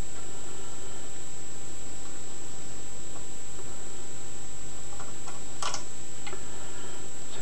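Small pins of a no-name 5-pin euro cylinder lock snap back up during picking, a scatter of faint, sharp metallic ticks and clicks over a quiet hiss, with a brief cluster near the end.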